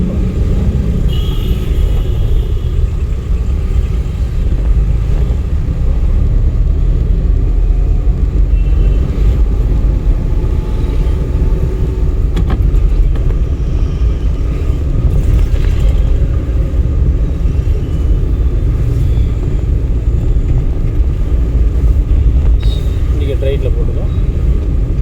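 A driving-school car on a road lesson slows under light braking and comes to a stop, its steady engine and road rumble loud and constant throughout, with an instructor's voice talking over it.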